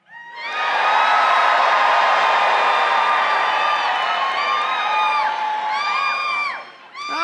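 A large crowd at a CPAC conservative political rally screams, cheers and whoops in a loud sustained roar that swells quickly, holds for several seconds and then fades away.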